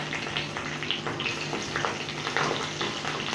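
Green chillies fry in hot oil for kande pohe, a steady soft sizzle and crackle that continues evenly at close range with no talking over it.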